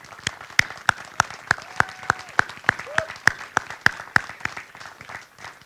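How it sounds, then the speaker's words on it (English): Sharp, evenly spaced claps from an audience at a military change of command ceremony, honouring soldiers; they beat in a slow steady rhythm with faint background sounds between claps. "I ask if you would please join me in a round of applause in the excellent performance of these soldiers during the ceremony."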